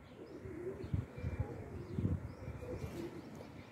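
Soft, low coos from blue-ringed Ferozpuri pigeons repeat a few times close by, faint against a quiet background with a little chirping.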